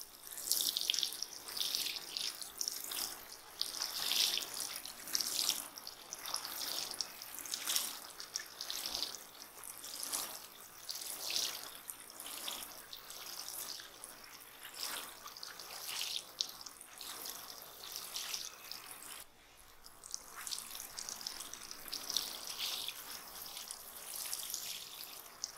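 Water pouring gently from a watering can's easy-flow shower head onto carrots in garden soil, a soft continuous hiss and patter, faint and steady for the whole stretch.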